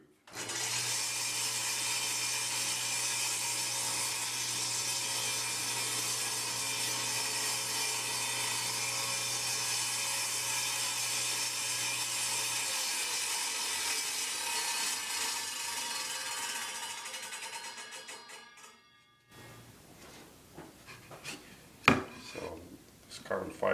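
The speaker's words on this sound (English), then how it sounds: "I have the saw blade centered on the center of the neck, and I have it set at 3/8 of an inch deep" A saw blade cuts a 3/8-inch-deep groove down the center of a tenor guitar neck, a steady loud whirring cut lasting most of the time before the blade stops, followed by a few faint knocks and handling sounds.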